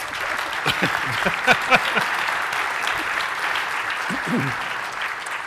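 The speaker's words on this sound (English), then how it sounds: "Let a round of applause." A conference keynote audience claps steadily for several seconds, a dense wash of hand claps that gradually thins out near the end.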